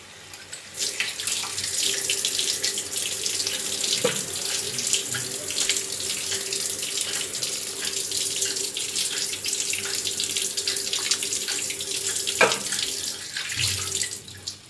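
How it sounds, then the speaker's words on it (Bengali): Water running from a tap and splashing into a pan during methi chicken cooking, a steady close gushing stream lasting throughout with brief clatters near the start and end, no voices. "এবার একটু সামান্য একটু জল দিয়ে দিতে হবে।"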